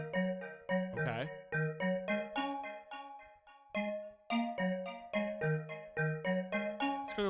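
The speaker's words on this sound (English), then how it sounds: "It's sort of like a bell sound" FL Studio's Flex synth plays a bell-like patch, a sequence of clear tonal notes with sharp attacks and ringing decays, some chords and a brief bright chime, alone and close.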